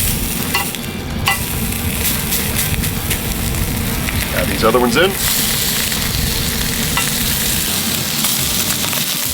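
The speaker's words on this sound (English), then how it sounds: "Listen for the sizzle." Lamb chops sizzle in a hot cast iron pan, a loud, continuous frying hiss with some stirring and shifting of the meat, while a voice speaks briefly partway through.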